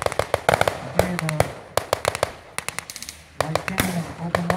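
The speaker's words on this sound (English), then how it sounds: "light cannon has opened up" Light cannon firing blanks during a WW2 battle reenactment, a rapid irregular series of sharp cracks and pops heard from a distance, mixed with some voices.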